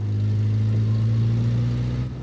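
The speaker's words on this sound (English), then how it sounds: "you can lay into the throttle and there's a lot of racket, but not much action" A 1982 AMC Concord convertible's Iron Duke four-cylinder revs under throttle, a loud, steady buzzing drone that holds a constant pitch, then drops slightly in level near the end, with no talking.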